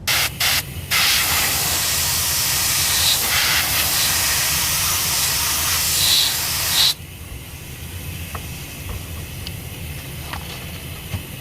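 An airbrush sprays touch-up paint onto a motorcycle tank under restoration, giving a loud steady hiss in short bursts and then a long run. After the spray stops, a quieter background remains.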